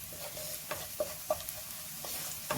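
Oil sizzles steadily in a pan before sliced okra goes in for an okra fry, with a few sharp stirring scrapes and ticks punctuating the constant hiss.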